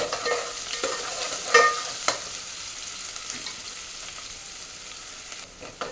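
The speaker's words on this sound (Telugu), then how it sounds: "ఆనియన్ బ్రౌన్ అవుతున్నాయి కదండి కొద్దిగా మీడియం ఫ్లేమ్లో పెట్టుకున్నాను" Onions browning in oil over a medium flame for chickpea biryani, a steady soft sizzle with scattered stirring clinks and scrapes near the pan, no voices.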